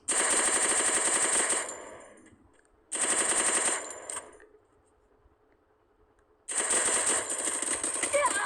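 Rapid automatic gunfire from a shooting video game, with loud bursts of rattling shots separated by short pauses and a brief quiet gap, the final burst continuing to the end.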